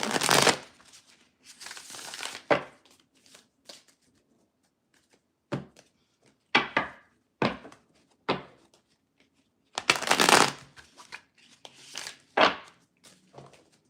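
Tarot cards are shuffled in several quick riffling bursts separated by pauses, close and crisp, with no talking.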